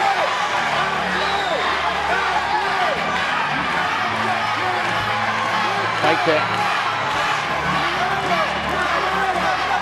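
A loud arena crowd at an MMA fight cheers and shouts steadily throughout, continuous dense roar with a commentator talking over it.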